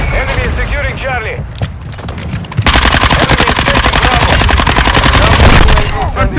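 Sustained automatic gunfire from submachine guns in a Call of Duty: Modern Warfare II multiplayer match, loud rapid bursts building into a dense continuous barrage, with voices and game callouts in the first half.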